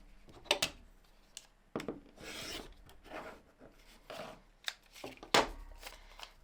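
Scissors or rotary cutter trimming quilt fabric pieces, producing close, quiet scraping and rasping cuts in irregular bursts with soft rustles of cloth between them.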